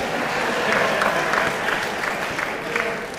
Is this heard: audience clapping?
yes